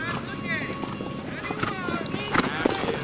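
Racking horse hoofbeats at a horse show in Dungannon, Virginia, a quick, even clip-clop running under loud announcer talk and crowd noise.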